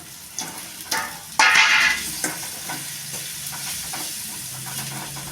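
Fried tomato balls tip into a pot of kadhi with a few soft knocks, then a sudden loud burst of sizzling hiss that fades into a low steady simmer with faint stirring.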